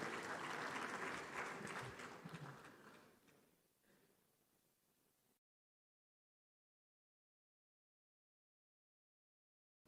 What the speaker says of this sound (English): A round of applause as they both come up to witness.